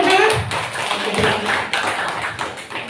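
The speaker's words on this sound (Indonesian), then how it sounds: "Tepuk tangan." Applause at an alumni gathering of a cooperative institute's class of 1991, a burst of close hand clapping with sharp taps and room echo running for the few seconds, loud and steady with a slight swell.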